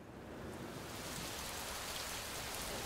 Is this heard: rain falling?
yes